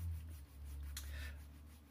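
A file rasps briefly across the end of an acoustic guitar bridge pin, cutting a 45 degree bevel in line with the slot: one short, close scraping stroke over a quiet background.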